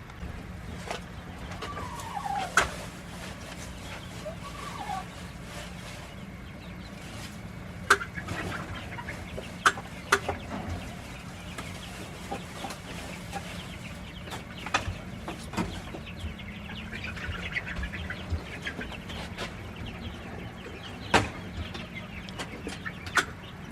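Chickens in a backyard coop setting with pecking-order squabbles among hens and pullets, giving occasional faint clucks and short calls over steady low background hum and noise, with no talking.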